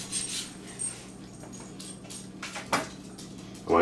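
Dogs whimper and pant faintly near a kitchen counter while a teriyaki flank steak is sliced at an angle, soft whines and shuffles over a low hum with a couple of brief louder yelps.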